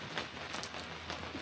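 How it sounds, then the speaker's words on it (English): Steady rain falls at a state park on a travel day, a soft continuous patter of drops on surfaces at low volume with no voices. "it's raining."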